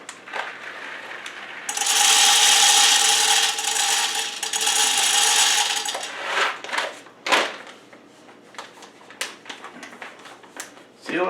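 Square Mile coffee beans ground a little coarser than espresso for a moka pot: a loud, steady grinding roar of about four seconds, then softer scraping, tapping and rattling as the grounds are handled.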